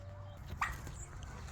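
A dog on a muddy homestead lets out a quick, high whimper and yip, one sharp close yelp followed by faint whines over a low background rumble.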